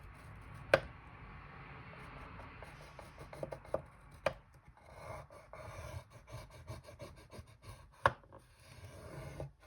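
Paper being cut for a Valentine's envelope pocket: a few sharp, distinct snips or cuts close by, spaced irregularly among quieter rustling and handling, with no talking.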